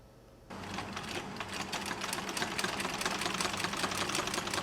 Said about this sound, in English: The whirling sound of the sewing machine means Farman from Myanmar is making her hair